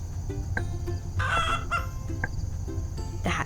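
A farm chicken gives short crowing and clucking calls in bursts over a steady low rumble, with a few sharp calls spaced through the clip at moderate distance.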